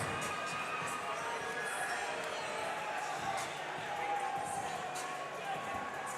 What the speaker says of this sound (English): The lights are on, the crowd is going nuts.